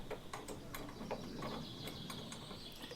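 A bolt is tightened on a belt grinder while a washer has slipped and blocks it, giving quick metallic ratcheting clicks up close in a quiet room.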